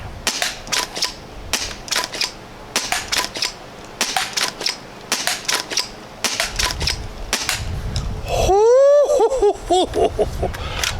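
A Misguided Creations A.L.L.160 fires at steel targets outdoors: a rapid series of sharp, close shots in quick bursts, followed by a ringing metallic chime and then more shots.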